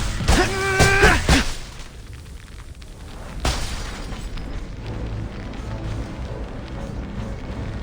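Orbs blowing up in the TMNT: Mutants Unleashed game, with a couple of loud booming bursts early on followed by a lingering rumble that settles into a quieter background.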